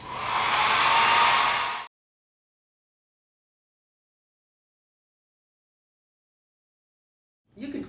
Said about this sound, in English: many times it's quite handy to use a hairdryer